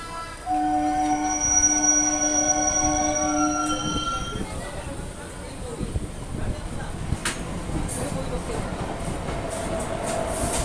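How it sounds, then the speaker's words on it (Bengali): Passenger train pulling out of Panagarh station, with a loud steady rumble of wheels on rail and prolonged high metallic squealing in the first few seconds, then continuous rolling clatter up close. "আমাদের ট্রেন এই মুহূর্তে পানাগড় স্টেশন থেকে ছেড়ে যাচ্ছে।"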